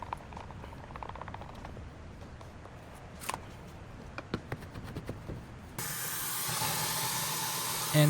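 Wagner paint sprayer shooting watered-down paint onto a test board, a steady loud hiss that starts abruptly partway through after a few faint clicks and rustles, then runs on continuously to the end.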